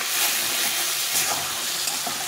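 Ground spice paste sizzles loudly and continuously as it is stir-fried into a thin ridge gourd and fish curry, a close, dense frying hiss with no talk.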